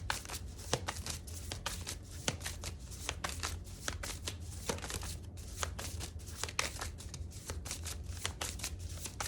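Tarot cards are shuffled in a quick run of crisp riffling snaps and papery flutters, close-up and fairly quiet, with no talking.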